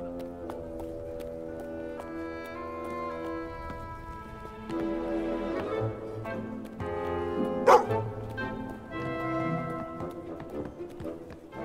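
A dog in Fable 2 barks a few times, fairly faint, over steady game music, with one sharper bark standing out partway through.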